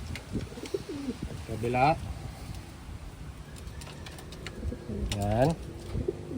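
Pigeons, medium-sized blue bar birds in a loft, give low cooing calls in two clear bursts over soft ambient noise, with someone talking intermittently nearby.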